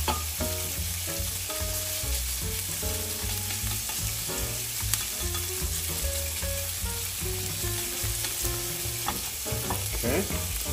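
Garlic sizzles and fries in a pan while being stirred, the crackle steady and loud all the way through, with a melodic music track playing over it.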